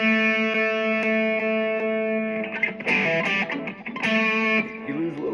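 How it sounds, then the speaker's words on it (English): Fifty-year-old Ibanez Roadstar Strat electric guitar played through distortion with both pickups on and the back pickup wired out of phase: sustained ringing chords, then a burst of faster strummed notes, loud and close with no talk. "with it out of phase on the back pickup and using both pickups, it actually has a really nice tone to it"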